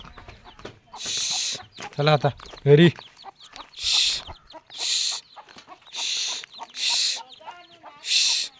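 A hen clucks repeatedly in short bursts, close by in a Konkan village, with faint peeps from her two chicks in between and a person speaking briefly over it.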